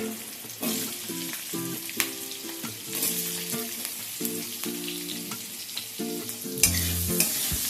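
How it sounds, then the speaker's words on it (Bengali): Long-cut potato pieces with a little salt frying in a pan for a light Bengali fish curry, steady close sizzling with occasional stirring clatters beneath background music. "এবার আলুটাকে সামান্য একটুখানি ভেজে নেব"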